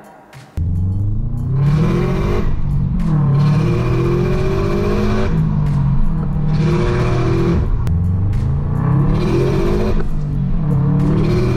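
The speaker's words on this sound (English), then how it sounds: "an external wastegate, and honestly, I think I'll let this mod speak for itself" A modified Subaru STI with an external wastegate revs hard and repeatedly, loud and close, its engine note climbing and falling in waves with sharp wastegate bursts between pulls.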